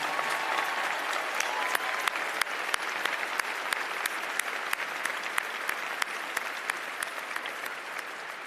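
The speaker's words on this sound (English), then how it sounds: "give them a big round of applause" An audience claps steadily and continuously at a 2020 graduation ceremony, dense many-handed applause sustained throughout with no voices over it.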